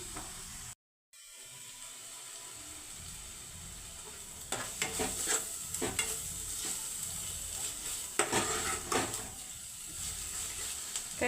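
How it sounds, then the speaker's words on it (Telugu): Tamarind pulp for an egg curry fries in a pan, a steady sizzle under repeated scraping strokes of a stirring spoon, close and clear, with no talk. "ఇప్పుడు కొంచెం గుజ్జు తీసుకుందాం కొంచెం ఫ్రై అవ్వాలి"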